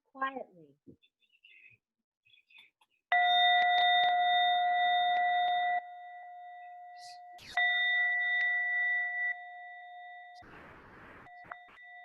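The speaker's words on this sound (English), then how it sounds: "I'm going to ring the gong" A gong struck at the start of a quiet sitting meditation, sustained ringing metallic tones with a long resonant decay that steps down in level, after a few brief bits of speech.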